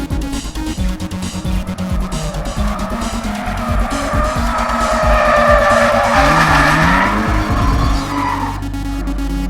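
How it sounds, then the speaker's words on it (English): Endless twin-turbo Nissan 350Z drifting, its engine roaring loud and steady while tires squeal continuously through the slide, the pitch rising and swelling near the end. "Tony Angelo from Drift Alliance brought out the endless twin-turbo 350Z and put on a great show."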